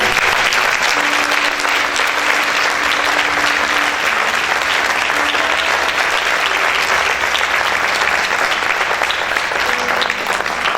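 A church congregation claps loudly together in dense, sustained applause for its full length, with faint music or voices tonal underneath and no clear speech.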